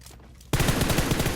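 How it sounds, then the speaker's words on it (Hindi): Rapid automatic gunfire in a battle royale video game, a loud sustained burst of shots that bursts in abruptly after a quiet start. "तो मेरे को राइट साइड से एक फायर का साउंड आता है"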